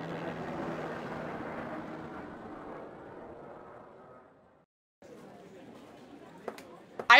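A cartoonish airplane whooshes in the DS game Drama Queens, a broad engine drone that fades out into a brief silence, then gives way to quieter game sounds and small clicks.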